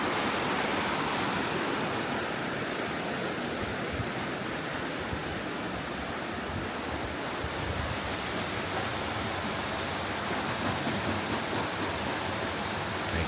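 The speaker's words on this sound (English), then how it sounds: "This is a lot of water flow." Heavy water rushing toward a large water wheel at an old graining mill, a steady loud roar of flowing water that holds evenly throughout with no other sounds on top.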